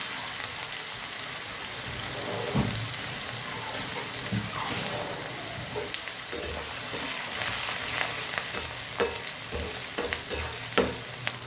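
Onion and tomato frying in hot oil with mustard seeds and asafoetida: a steady, dense sizzle with occasional stirring scrapes and clicks of a utensil in the pan, close and continuous.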